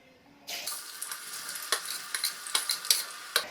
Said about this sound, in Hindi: अब इसमें बीटरूट 2 बार आधे आधे करके फ्राई कर लेंगे।